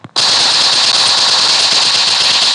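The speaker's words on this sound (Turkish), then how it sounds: "Uzi'yi kullan" Rapid automatic fire from an Uzi submachine gun in a video game, starting abruptly after a brief sound and continuing as one loud, dense burst to the end, with no talk.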